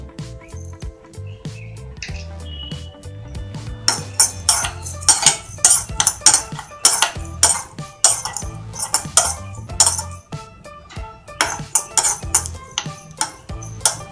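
Half a spoon of cumin seeds frying in a pan gives off dense, irregular crackling and sharp pops that grow busier partway through, with light metallic clinks among them.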